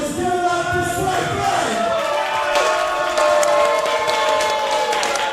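A wrestling show crowd applauds and cheers, dense clapping mixed with shouts and whoops from the audience, loud and steady throughout.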